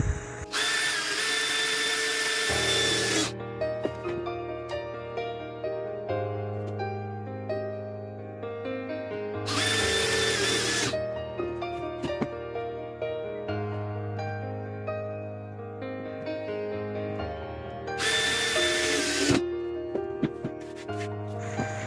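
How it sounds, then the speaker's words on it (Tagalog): A power drill drives screws into a PVC pipe chicken feeder in three loud whining bursts of a few seconds each, separated by quieter handling noises, with no voice. "Ngayon, itutornilyo ko na siya sa PVC para wag na matat matanggal."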